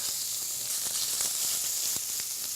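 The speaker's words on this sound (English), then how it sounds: "I got some bacon chopped up. Just going to brown that off." Chopped bacon browns in a hot pan with a steady, close sizzle and scattered sharp crackles and pops throughout, with no voices.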